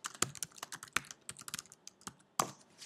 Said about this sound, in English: I'll type in my long and secure password.